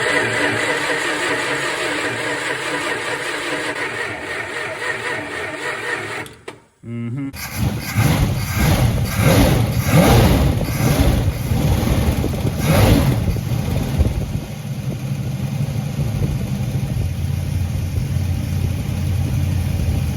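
A 1963 Dodge Dart convertible engine, flooded and long unused, runs loudly, cuts out briefly and dies, then cranks and restarts into a steady, rough mid-pitched running idle up close.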